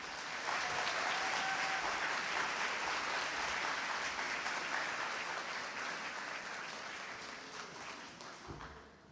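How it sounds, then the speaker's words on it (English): A commencement audience gives sustained applause for two students, a steady wash of many hands clapping at moderate distance that slowly fades over nine seconds. "Let's give a round of applause again to Malak and Raghib."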